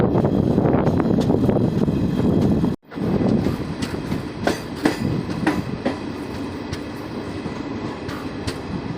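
An express train running onto the Rajendra bridge in India, with a loud, steady rumble and rhythmic clickety-clack of wheels on rails, briefly cut out partway through and then continuing with sharp metallic clanks.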